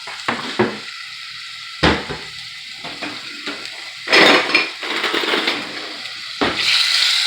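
Mirepoix sautés in olive oil in a pan, a soft continuous sizzle broken by scraping stirs and clacks of a wooden utensil against the pan, close up, with no one talking.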